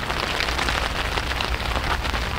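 Steady, dense rain pours down outdoors during a feeder fishing session for carp, loud and continuous with no voices.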